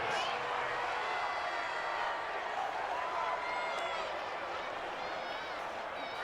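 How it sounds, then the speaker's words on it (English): Stadium crowd noise swells into sustained cheering during a simulated Bears at Eagles football game in Madden 20, a dense continuous roar filling the whole stretch ahead of a big third down. "the crowd getting into it as we come up on a big third down"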